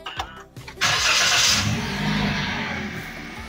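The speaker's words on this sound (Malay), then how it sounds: "Untuk first kali kita start kereta." A Perodua Bezza car engine starts with a short cranking stutter, then catches into a loud rev before settling toward a steady idle, close and clear with no talking.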